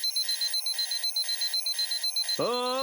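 Several alarm clocks ring in a cartoon, a rapid, regular electronic beeping pattern repeating loudly, then a voice breaks in near the end.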